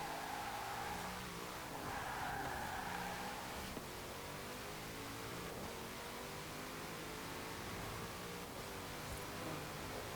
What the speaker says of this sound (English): there's the drift coming out of it as soon as I started to brake